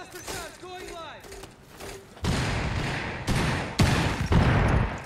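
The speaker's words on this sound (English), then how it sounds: "Detonating cluster charge." Hibana's cluster charge in a tactical shooter game detonating as a series of sharp, loud bursts in quick succession, following a brief spoken line, each pop landing close and punchy.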